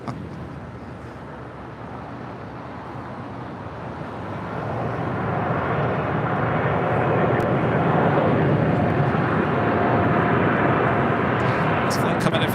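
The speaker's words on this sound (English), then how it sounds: "This flight coming in from Miami, Florida. American Airlines flight 862. It's a 787-8 Dreamliner." An American Airlines Boeing 787-8 Dreamliner arriving from Miami comes in to land at LAX, its broad engine roar swelling steadily and staying loud through the second half, with a person talking over it.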